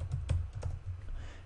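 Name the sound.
typing text on a computer keyboard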